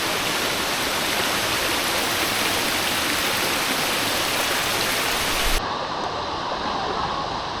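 Wang Kan Lueang waterfall roars as a steady, loud wash of falling water with no talking, and the sound abruptly thins and drops slightly near the end.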